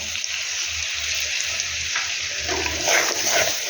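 Potatoes and onions frying with a turmeric and chili paste give a continuous loud sizzle with bubbling hiss. Low thumps and a few stirring scrapes sit underneath it, and no one speaks.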